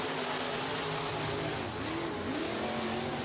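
Race cars accelerate together off the green-flag start at Northwest Florida Speedway in Baker, Florida, a dense, continuous engine roar with rising pitch heard from a distance.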